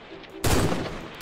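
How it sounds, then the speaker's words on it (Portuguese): A single sharp sniper gunshot in a Minecraft hide-and-seek game cracks out loud and sudden, then trails off in a rumbling decay with no talk over it. "Caramba, eu vi um tiro passando na minha orelha!"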